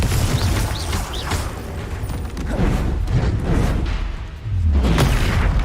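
Booming explosions and bursts from the Confringo fire spell in the Hogwarts Legacy video game, loud and dense, rolling one into another with rumbling low impacts and crackling debris over about six seconds.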